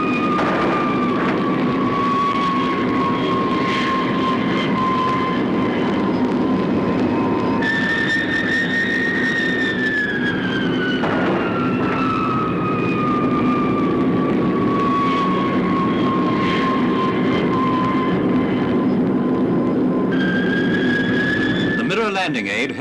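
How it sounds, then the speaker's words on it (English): Hawker Seahawk jet approaching the aircraft carrier HMS Albion at sea in 1959, a continuous loud jet engine whine whose pitch slowly glides and shifts as the aircraft nears, with a sudden change at the end. "The first Seahawk approaches at 100 miles an hour."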